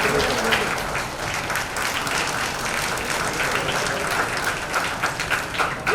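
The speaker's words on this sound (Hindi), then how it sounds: "एक बार जोरदार तालियां हो जाए" An audience at a charity fundraiser show claps loudly in a continuous, dense burst of applause that stays even and energetic throughout.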